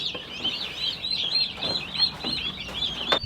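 A dense chorus of high, chirping peeps from turkey poults, continuous and fairly close, with faint background rustling.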